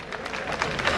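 Audience clapping broadly and steadily at a women's and party workers' gathering of the Aam Aadmi Party, dense continuous applause welcoming a speaker, no voices standing out.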